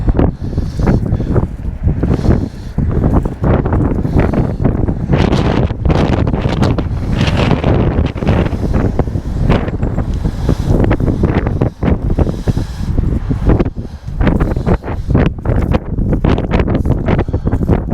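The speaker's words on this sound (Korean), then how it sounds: "바람도 많이 불고" Strong wind blows outdoors in rural Jeju, buffeting the microphone with loud, continuous gusty rumble and roar that never lets up.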